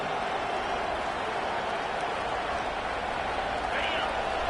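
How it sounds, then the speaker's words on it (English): A football stadium crowd roars steadily late in the first half, a dense, loud wash of cheering that fills the whole clip without pause, meant to rattle the offense and help the home defense. "Listen to this crowd just shaking the girders of this place, trying to help their defense"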